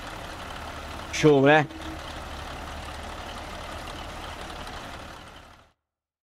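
A modded truck engine from an engine pack in Euro Truck Simulator 2 idles in a steady low drone, then fades out. A brief rising tonal sweep comes early, and someone speaks briefly.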